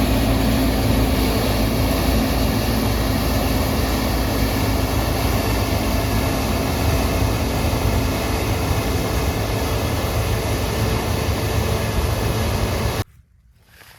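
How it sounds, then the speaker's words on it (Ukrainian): New Holland CX6090 combine harvester driving during a spring barley harvest, a loud, steady, broadband engine and machinery roar that continues evenly before cutting off abruptly near the end. "От, видно, вже комбайн їде з піднятим."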